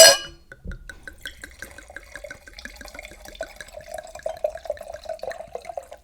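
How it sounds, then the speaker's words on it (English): A drink is poured slowly into a glass, starting with a sharp clink, then a gentle trickle of liquid with fine bubbling and rising pitch as the glass fills, close and quiet. "Yes, ASMR pour."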